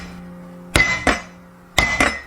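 Garlic cloves are smashed with the flat of a knife on a chopping board, two pairs of sharp, loud thwacks with brief ringing tails, spaced about a second apart over a faint background hum.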